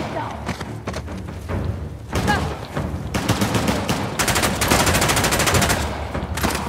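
Video game gunfire in Uncharted The Lost Legacy: loud, dense bursts of rapid automatic fire and shots, with thumps and brief voices mixed in throughout.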